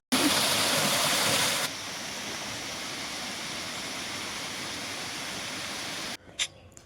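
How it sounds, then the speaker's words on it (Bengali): A waterfall in Kalimpong district roars as a loud, continuous rush of water, steady and close throughout, fading out near the end where a few faint sounds break through. "তোমাদের অরিজিনাল সাউন্ড শোনাই এই ঝর্ণার।"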